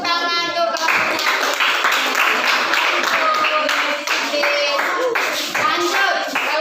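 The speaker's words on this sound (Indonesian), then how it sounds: "beri tepuk tangan untuk kelompoknya" A classroom of children clapping for a group of classmates during a school lesson, brisk, uneven hand claps that run on steadily and fairly loud, with a few young voices mixed in.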